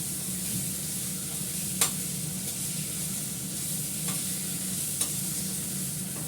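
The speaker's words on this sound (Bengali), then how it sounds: "ভালো করে কষতে থাকে, ঝলটা দিয়ে কাঁচা লঙ্কাটা দিয়ে দেবো।" A spice paste with green chillies is being sautéed for a fish curry, giving a constant even sizzle in the pan with a few faint ticks from the spoon and no talking.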